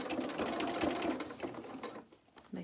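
A sewing machine stitches dungarees fabric in a fast, steady whirring run of stitches, close up, then slows and stops near the end; no voices.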